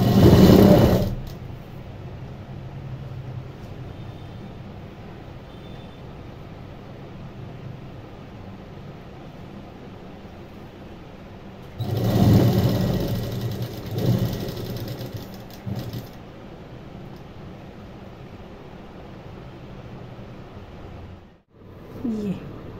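A sewing machine runs in bursts while stitching a kurti, a loud start, a long softer stretch of steady whirring, then a second strong burst before it stops briefly near the end.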